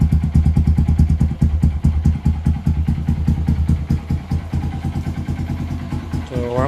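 A 2015 Honda XR150L motorcycle with an aftermarket J-Pol exhaust idles close by, its steady thumping pulses loud and even, with a person's voice briefly over the engine near the end.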